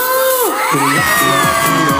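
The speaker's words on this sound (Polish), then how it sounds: "Pokażcie, jak jesteście głośno Dziewczyny piszczą" A large crowd of girls screams and cheers loudly at a student festival pop concert in Zamość, shrill overlapping voices rising and gliding in pitch over a constant roar of noise for the whole stretch.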